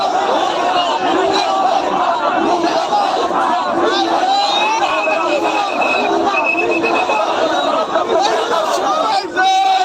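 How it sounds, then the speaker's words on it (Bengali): A large, loud crowd of protesters chants a repeated slogan in unison, with shouting and overlapping voices continuing throughout. "সবাই কিন্তু ভুয়া ভুয়া বলে স্লোগান দিচ্ছে"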